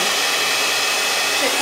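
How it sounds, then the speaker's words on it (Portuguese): A hair dryer blows steadily on the bangs, held at a good distance from the hair: a loud, close, constant broadband whoosh with no breaks. "secador"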